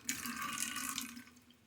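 A wet shaving brush is squeezed out over a sink, producing a brief splashy trickle and dripping of water that fades after about a second.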